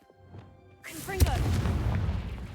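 Confringo explosive spell cast in Hogwarts Legacy: after a quiet start with faint voices, a bright whooshing burst erupts into a loud booming crack and sustained rumble.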